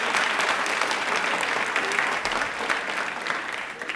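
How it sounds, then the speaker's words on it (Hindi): Steady, dense audience clapping fills the studio of a DD Rajasthan Indian Railway quiz show, loud and continuous throughout with no voice on top. "तो एक बार तालियां बजा दीजिए इनके लिए जोरदार वाली।"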